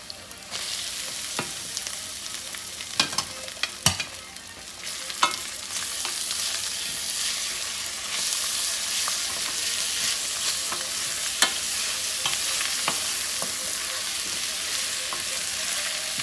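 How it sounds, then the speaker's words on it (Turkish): Rice sautéing with fried onions in a pan, a steady loud hiss and sizzle with occasional sharp clicks of a utensil stirring against the pan, no talking. "Evet soğanımız güzelce kavruldu. Şimdi pirincimi hemen ilave edebilirim."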